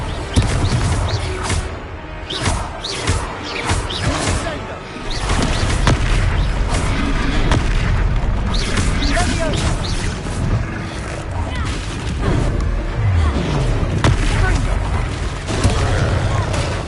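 Confringo fire-spell blasts in a Hogwarts Legacy battle, a dense, loud run of booming impacts and crashes over continuous combat noise, with game voices talking throughout.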